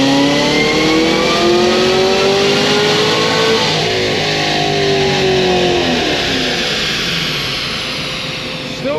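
A stage 4 Cadillac CTS-V engine holds a loud, sustained open-throttle rev, a steady roaring drone with rising harmonics that eases slightly toward the end.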